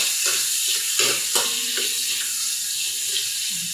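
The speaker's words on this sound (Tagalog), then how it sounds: "Gisa-gisa lang natin ng kaunti." Garlic and onion sautéing in a pan, a steady soft sizzle with faint clinks and stirring scrapes, moderately close with no talk over it.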